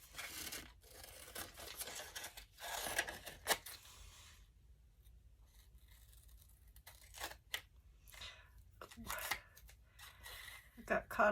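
Scissors cut through green paper up close for a craft journal, giving off quiet, irregular snips and crinkly rustling in short bursts separated by pauses, under low background hiss.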